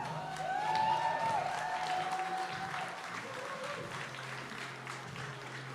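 Steady applause from a crowd at a CrossFit Open workout showdown, a continuous even patter of clapping in a gym, held at moderate distance with some voices and a faint whistle-like tone in it.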